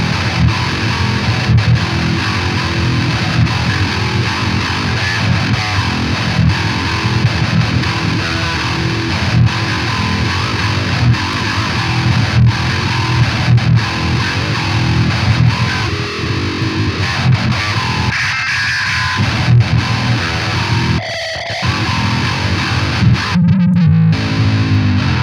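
Heavily distorted metal guitar played through a Tube Screamer, amp and cab with the EQ bypassed, dense chugging riffs loud and continuous, briefly thinning near the end.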